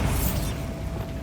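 A Bombarda blasting spell goes off in Hogwarts Legacy, a short burst with a rumbling, crumbling tail that fades quickly and plays alone.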